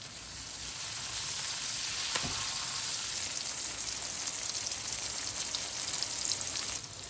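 Onion and chopped tomato fry in a pan with a loud, constant crackling sizzle close by, holding steady for several seconds with a brief sharp tick early on and no talking.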